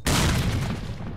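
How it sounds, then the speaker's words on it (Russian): A loud grenade blast in S.T.A.L.K.E.R. bursts in at once and rolls into a long, decaying rumble with a crackle of gunfire, close and dominant, with no talk. "Граната!"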